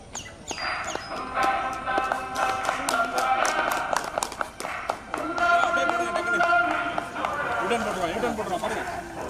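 Scattered hand claps from spectators at a marathon ring out in an uneven rhythm, mixed with voices talking and general outdoor bustle.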